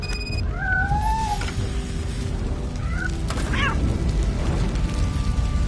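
A trapped cat meows inside a burning hotel in a video game: several drawn-out, wavering meows, one after another, rise over a constant heavy rumble of fire and background noise.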